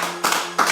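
A church congregation clapping in praise of the Lord, two short bursts of dense hand applause separated by a brief lull.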